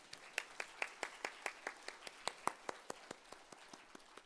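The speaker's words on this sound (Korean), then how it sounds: "박수 한 번만 해주세요" A church audience claps during an anniversary revival service, with about twenty evenly spaced, fairly faint claps sounding in a steady rhythm, with no talking.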